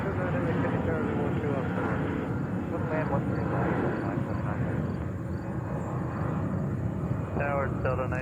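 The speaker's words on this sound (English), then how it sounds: "All the way to the end, Delta 767-400." A Delta Boeing 767-400 at JFK Airport gives a continuous low engine rumble beneath voices and radio chatter, steady and moderately loud throughout.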